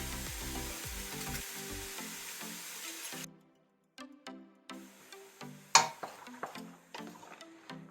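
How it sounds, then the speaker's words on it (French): Vegetables and garlic sizzle in oil in a pan for a spaghetti sauce, a dense, even frying hiss for about three seconds that cuts off abruptly, followed by scattered clicks and light stirring taps. "Je remets un peu d'huile. Et là, j'attendris les légumes. Et je mets l'ail."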